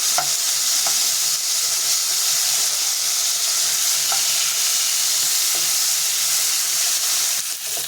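Fish frying in hot oil in a pan gives a loud, steady sizzle and hiss throughout, with a few faint clicks of stirring and no voices.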